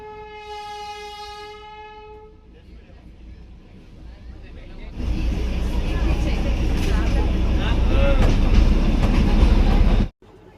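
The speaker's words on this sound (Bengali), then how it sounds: "আমাদের ডিজেল ইঞ্জিনে যাত্রা" A Darjeeling diesel toy train's horn blows for about two seconds, then a loud, steady engine rumble with rattling carriages takes over until an abrupt stop.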